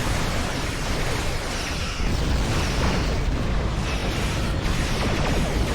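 A destroyed constriction anchor exploding in the Star Trek Online space combat game, a loud, dense roar of broadband noise that rumbles on steadily for several seconds with no clear breaks.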